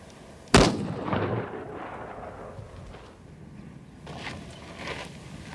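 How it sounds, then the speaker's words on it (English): A single loud, close gunshot from a rifle cracks sharply and then rolls away in a long, fading outdoor echo, with faint distant rumbles following and no voices. "Breathe out before you shoot. and squeeze the trigger."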